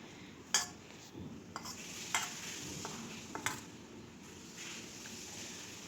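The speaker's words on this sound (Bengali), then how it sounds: "এবার বাটিতে ভরে দিই।" Cooled curry of rohu fish with cauliflower and potato being spooned into a lunch tiffin bowl, a few sharp clinks of spoon on bowl over a soft steady background, no talking.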